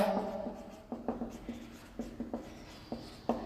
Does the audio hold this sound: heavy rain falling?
no